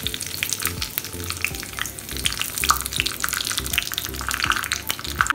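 Red chillies fry in hot oil with mustard seeds and curry leaves for a vegetable curry tempering, a close, lively crackle and sizzle with sharp pops and spatters running steadily throughout.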